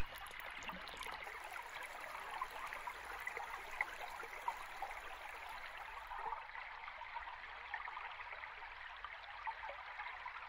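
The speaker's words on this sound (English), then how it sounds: "Shallow streams leisurely stroll through the forest and gently reach the Gulf" A shallow forest stream on Costa Rica's Osa Peninsula flows steadily near the Golfo Dulce shore, a continuous soft rushing and trickling wash with no voices, holding an even level throughout.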